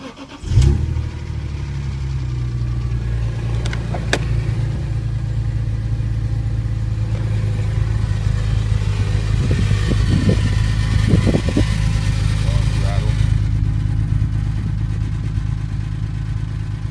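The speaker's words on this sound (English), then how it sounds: "Okay, Lee, this is going to be the third video, which is going to be the exhaust rattle, and it's going to be under the hood with the ticking noise" A 2002 BMW M3 engine starts and then idles steadily and loudly from close by, with light rattling and ticking under the hum from the exhaust and under the hood.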